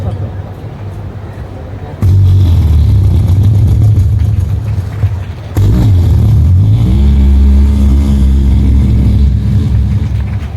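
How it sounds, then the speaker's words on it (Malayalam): Generator engine starting at a Kannamangalam panchayat silver jubilee gathering: a loud, close motor catches after a couple of seconds and settles into a steady low drone, with a brief dip and restart midway before running on continuously. "ജനറേറ്റർ സ്റ്റാർട്ട് ചെയ്യുന്ന ശബ്ദം"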